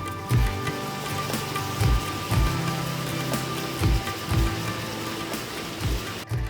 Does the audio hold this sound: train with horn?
no